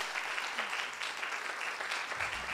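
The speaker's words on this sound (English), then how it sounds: "Can we get a round of applause?" An audience claps in steady, dense applause at the close of a creative-talk event, moderately distant and sustained throughout.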